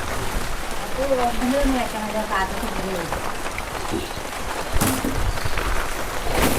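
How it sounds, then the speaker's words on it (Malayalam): Steady heavy rain hisses throughout, with a voice speaking briefly underneath the downpour. "നല്ല മഴ കേട്ടോ നല്ല മഴ"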